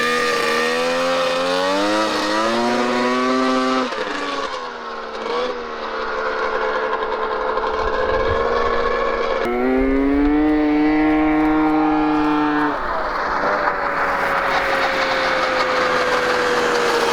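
A 100hp trike fitted with a new intake accelerates hard on a test pass. Its loud engine whine climbs through the gears in rising sweeps, dips briefly between shifts, then holds a high sustained note, up close the whole time.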